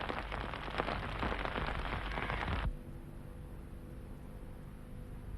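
Heavy monsoon rain pours over sandy, sloping ground in Rayalaseema, a dense loud hiss for the first few seconds before abruptly dropping to a softer, steady patter.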